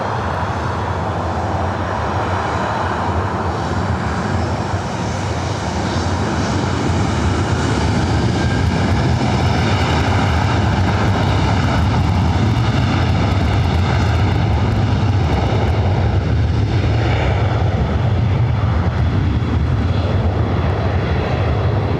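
A Southwest Airlines Boeing 737-800 takes off from runway 24 right at LAX, bound for Chicago Midway. Its engines give a loud, sustained jet roar that stays strong and close the whole time.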